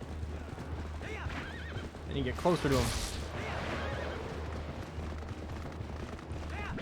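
In Twilight Princess HD, a horse whinnies loudly and gallops. Someone talks over the steady hoofbeats and game noise, and a second, louder neigh bursts out partway through.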